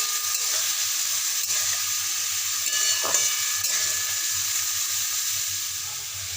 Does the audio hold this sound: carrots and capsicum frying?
yes